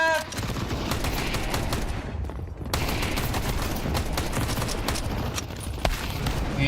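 Counter-Strike 2 gunfire, dense rapid automatic shots and sharp single cracks, loud and continuous with a brief pause partway, close to the listener.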